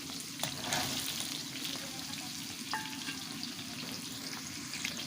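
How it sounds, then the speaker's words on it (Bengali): Pointed gourd (potol) pieces fry in hot oil with green chilli tempering in a pan for a mixed vegetable dish, making a constant dense sizzle with light stirring scrapes and one brief clink, no talking. "পটলগুলোকে আমি ভালোভাবে ভেজে নেব"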